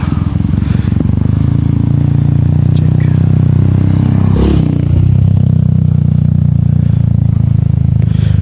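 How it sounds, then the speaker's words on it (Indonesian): A Honda CRF trail motorcycle on a mountain trail, its engine droning loud and close with rising revs, rattles and scraping as it passes. "kalau pakai CRF kayak gitu sih enak ya. Memang motor buat trek-trek kayak gitu."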